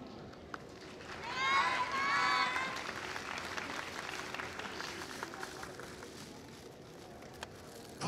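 Audience clapping at a YOSAKOI festival dance in Ashikaga swells into a steady burst of applause early on, then fades to a softer patter under crowd noise and speech.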